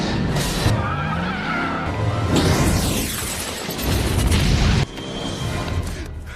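A car tears across a school scene to run down a teacher, engine roaring and tyres skidding in a loud, chaotic rush, with a sharp impact and an abrupt cut near the end.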